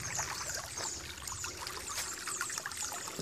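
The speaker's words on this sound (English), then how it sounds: "there is water flowing from that overflow" Water spills and trickles from a reservoir overflow in a soft, continuous splashing stream with brighter dribbling spatters, faint and steady with no voices.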